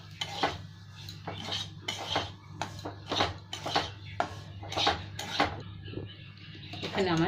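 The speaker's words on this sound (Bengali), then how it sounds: "সুজিটা একটু লাল লাল করে ভেজে নেব।" Semolina fried and stirred in a pan for sujir halwa, a utensil repeatedly scraping and clinking against the metal in an irregular rhythm, close and fairly loud, with no voices.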